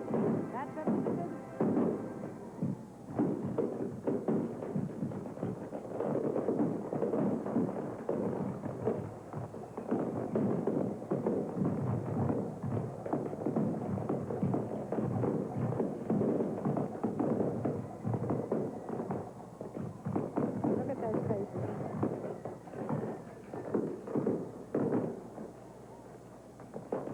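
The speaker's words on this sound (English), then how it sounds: "mixed with the noise of the fireworks as they shoot high into a beautiful London sky" Fireworks over Hyde Park, London, on the 1981 royal wedding eve, crack and thump in a dense, continuous barrage for most of the passage, easing near the end.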